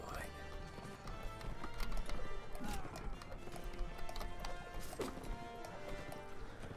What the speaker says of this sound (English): Everyone, mount horses if you're not mounted.